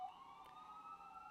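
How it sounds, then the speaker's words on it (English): An emergency vehicle siren wails faintly from outside, a steady high tone that slowly shifts pitch across the short moment, distant and muffled. "Sorry about the sirens, guys."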